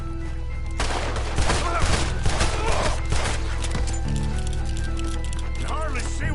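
Bursts of gunfire in a Red Dead Redemption 2 nighttime firefight, several sharp shots and volleys mixed with hoofbeats and background game sound, with voices talking over parts of it.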